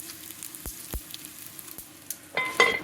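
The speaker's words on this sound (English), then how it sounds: "the mustard seeds are going crazy, popping all over the place" Sharp pops and crackles of mustard seeds jump out of a steadily sizzling frying pan, scattered at first and then coming quicker and hotter near the end.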